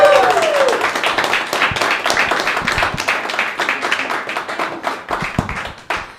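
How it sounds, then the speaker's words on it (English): Audience applause at a stand-up comedy open mic: dense, sustained clapping from a room of people, loud and continuous before easing off slightly toward the end. "Big round of applause"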